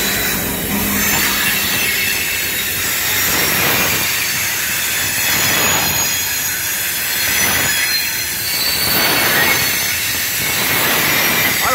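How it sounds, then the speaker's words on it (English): A Norfolk Southern loaded coal freight train with an EMD SD70ACe locomotive rolls steadily past close by, with continuous rumbling, rhythmic wheel clatter and high metallic squeals throughout. "I don't like this with my back to a moving train."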